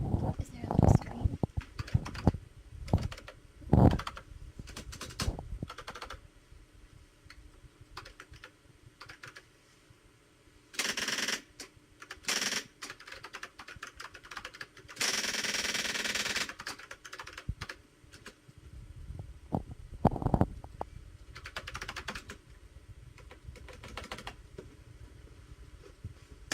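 Clattering keystrokes on a Canon typewriter with a correction button come in irregular bursts, with thumps, pauses and longer mechanical runs, and people talk in between.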